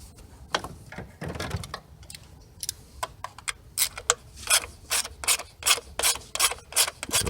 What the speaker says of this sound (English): I'm going to start taking these lower intake bolts loose